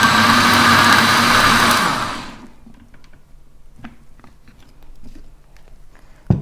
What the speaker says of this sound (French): Donc je vais venir déjà mixer un petit peu ça